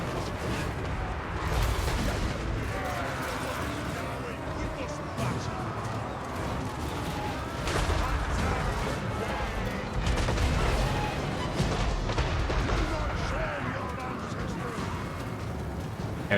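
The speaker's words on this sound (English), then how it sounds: "Got some warp fire guys, but they get targeted by my artillery." Battle din from Total War: Warhammer 3, with dwarf artillery firing on Skaven warp fire units: a continuous dense roar of booms, volleys and crowd clamor, swelling around the middle and near the end, with speech over it.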